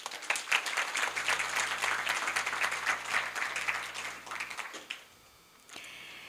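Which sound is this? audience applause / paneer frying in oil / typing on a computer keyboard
audience applause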